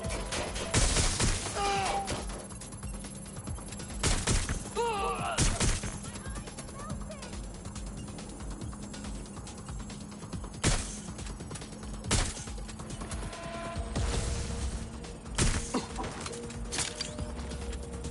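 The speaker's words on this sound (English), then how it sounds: "Suspect shooting." Gunfire from a suspect shooting in Watch Dogs: Legion, a series of sharp bursts and scattered shots over a steady game ambience with a low hum, loud cracks spaced irregularly across the stretch.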